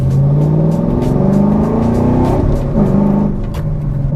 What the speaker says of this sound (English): I like to accelerate, I like to hear my sound of my car.